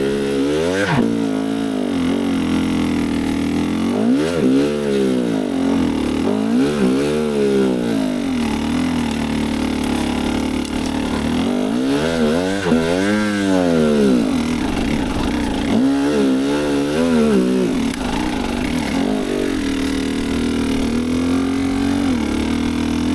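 Gasgas EC300 TPI two-stroke dirt bike with studded tires creeping slowly in second gear, its engine burbling steadily with repeated short throttle blips and rising and falling revs, loud and close throughout, no talk.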